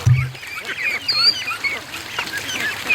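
Ducks quack and honk nearby in a scattered chatter, with a sharp call at the start and higher peeps throughout.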